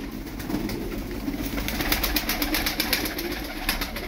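Çorum pigeons coo steadily in a coop, a dense layer of soft, overlapping calls with no one speaking.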